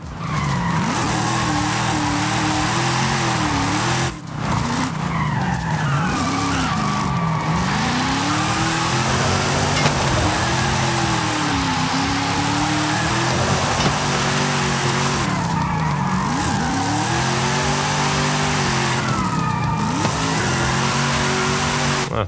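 A classic car drifting in the Forza Horizon 5 racing game: a loud, continuous engine revving with rising and falling pitch sweeps and tire squeal, sustained throughout with brief dips between gear changes.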